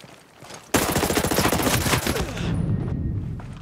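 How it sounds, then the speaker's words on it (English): A sudden loud burst of rapid gunfire in the tactical shooter Ghost Recon Breakpoint starts nearby and rattles on for nearly two seconds before it fades into a lingering echo. "I hear gunfire."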